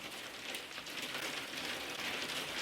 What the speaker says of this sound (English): it's literally hailing right now.